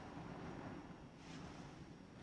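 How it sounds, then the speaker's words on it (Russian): Very strong wind sweeping across open fields and blowing dust and soil, a loud continuous roar with gusts buffeting the microphone throughout. "очень сильный ветер."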